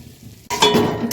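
Mustard and poppy seed masala stirred in a frying pan, starting after half a second of near-quiet with a burst of close scraping and sizzling that carries on steadily to the end.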